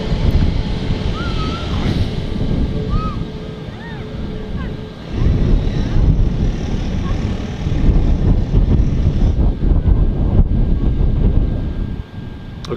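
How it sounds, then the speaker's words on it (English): An Airbus A320 taxiing at Manchester Airport, heard as a steady, loud, broad engine roar with wind rumble that swells slightly midway, and someone talking faintly underneath. "need much thrust to taxi these A320s."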